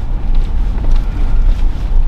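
Wind gusts across an open valley near a campground in the Southern Sierra mountains, a steady low rumble with buffeting against the microphone that swells and eases throughout, with no voices.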